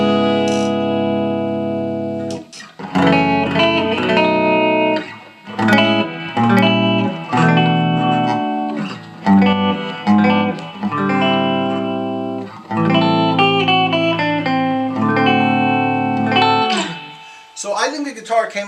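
Les Paul style electric guitar played through effects, bright chords and single notes ringing out with sustain in phrases broken by short pauses, loud and close, with no talking over the playing.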